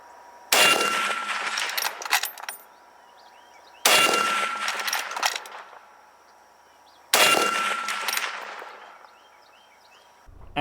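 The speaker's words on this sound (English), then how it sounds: "that smoothly operates the bolt going forward" A broken-in Remington 700 bolt-action rifle's bolt worked forward, three sharp metallic clacks spaced about three seconds apart, each followed by a brief ringing rattle, loud and close with no talk.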